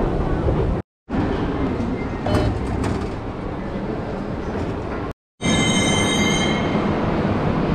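A metro train in Tehran rumbles loudly along its track with rolling wheel noise and squeal, heard close from on board, with brief drop-outs and a high squeal near the end.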